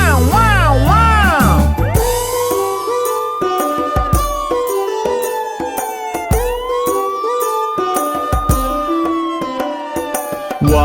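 A wailing ambulance siren rises and falls in sweeping tones, layered over an upbeat children's song with a steady beat.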